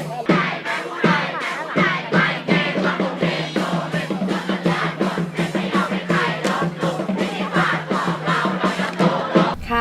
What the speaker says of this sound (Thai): ด้านหลังของฉันก็คือการแสดง แข่งแสดงเชียร์ของคณะนิติศาสตร์นะคะ